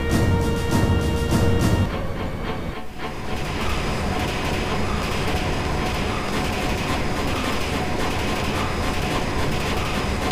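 A train rolls steadily along in Final Fantasy VIII, a loud continuous rumble with rail noise that briefly dips near the start before settling into an even, unbroken drone.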